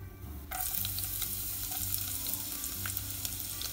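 Whole cardamom, cloves and cinnamon sizzle in hot oil with ginger and garlic for a Kerala chicken stew, giving a steady, close crackling fry with no voices.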